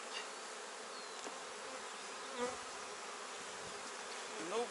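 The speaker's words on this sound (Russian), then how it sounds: "Уже пчелы снова начнут работать." Honey bees buzzing around an opened hive during a honey harvest, a continuous faint hum with individual bees passing closer now and then, no talking.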